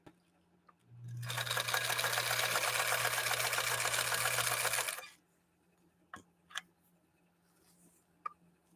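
A 1954 Husqvarna sewing machine runs a maximum-width zigzag on bubblegum vinyl, a loud, fast, steady mechanical whir for about four seconds, then stopping, followed by a few faint clicks and handling sounds.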